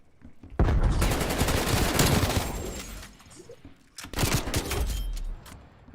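Krig 6 rifle fire in the video game Cold War, loud close bursts of rapid automatic shots in two long strings separated by a brief lull, with other battle noise around.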